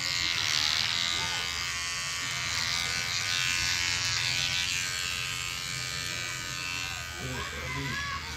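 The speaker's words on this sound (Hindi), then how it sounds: "ट्रिमर भी हमारा स्लो है, थोड़ा फास्ट फास्ट नहीं काट पा रहा है।" A slow electric trimmer buzzes steadily and close up while clipping a golden retriever's fur, and a person talks over the hum.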